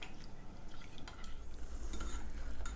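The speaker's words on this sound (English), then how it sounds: "stirring it until it's all incorporated and creamy" A utensil scrapes and clinks close up as sauce is stirred in a pot over medium heat on a backyard stove, with a soft low bubbling or sizzle underneath.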